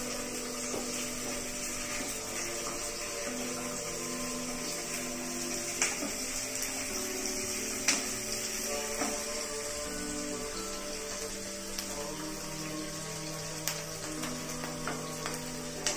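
Onions fry in hot oil in a pan over a full flame, a steady, even hiss that continues without pause, with a few faint clicks and no voices.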